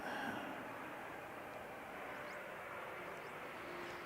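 Qantas airliner moving on an airfield in strong wind, a faint distant jet-engine hum that stays steady and low throughout.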